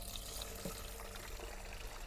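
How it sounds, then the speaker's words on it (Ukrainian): Water running into the tank of an electric garden sprayer while preparing a Bordeaux mixture, a continuous gushing, splashing flow with a faint knock partway through. "зараз набираємо водичку"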